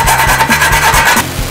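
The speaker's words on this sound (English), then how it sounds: "We want to take a file or a die grinder or something like that and remove the sharp edges, deburr it" A metal file rasps back and forth over the freshly cut edges of a 2010-2011 Camaro V6 exhaust pipe, deburring them in steady, close strokes that fall silent near the end.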